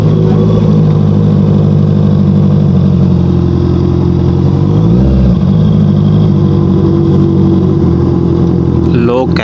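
A motorcycle fitted with an Austin Racing exhaust runs loud and close with a deep, throbbing engine note, rising and dipping in pitch as it is revved, then settling back to a steady rumble.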